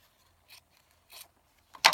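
Scissors trim fabric for foundation paper piecing, giving a few quiet, brief snips close by that end in a louder, sharper cut.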